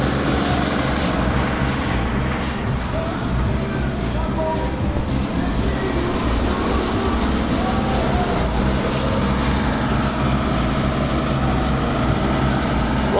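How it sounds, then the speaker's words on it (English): An old Leyland engine powering the stalls at an Easter funfair drones in a steady, loud, continuous rumble with a constant low hum and busy clatter mixed in. "This is your old Leyland engine."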